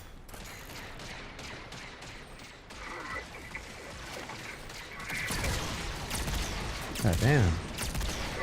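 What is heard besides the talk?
gunfire from a video game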